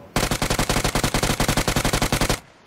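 Rapid automatic gunfire from a team shooter game, about two dozen evenly spaced, loud, close shots in one sustained burst that stops abruptly.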